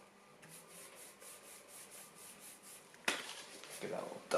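A clay bar rubbed over the paint of a Honda Civic makes a soft, rhythmic swishing that grows into louder, rougher friction near the end, close to the listener.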